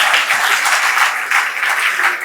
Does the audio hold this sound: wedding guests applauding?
yes